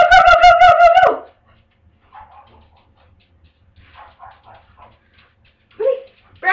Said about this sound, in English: Now Brownie here is the guard dog, pretty much.